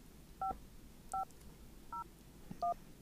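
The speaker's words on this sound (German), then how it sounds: "Rufen wir doch einfach mal Afa an." Four separate telephone keypad tones dialing a number in the horror game Darkness Within, evenly spaced short beeps over a quiet background hum, with no voices.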